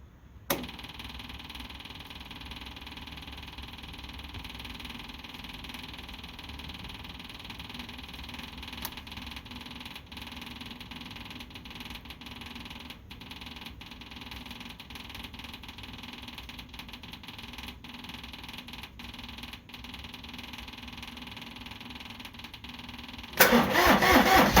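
A vehicle engine cold starting at 25 degrees with the block heater off, cranking briefly and then settling into a steady, continuous idle close by for over twenty seconds, with a louder burst at the very end.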